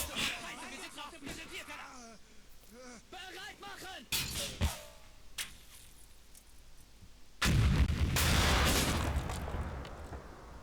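Artillery shells fire in the World War II strategy game Combat Mission Final Blitzkrieg, with several sharp booms and a heavy blast rumbling out near the end, under a backdrop of combat noise and faint cries.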